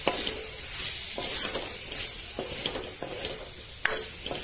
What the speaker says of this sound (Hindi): फिर इसमें डालेंगे कद्दू